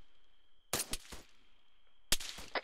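Gunfire in the military shooter Arma 3, two separate bursts of sharp close shots, each a quick cluster of three or four cracks, separated by a pause with a faint steady tone in the background.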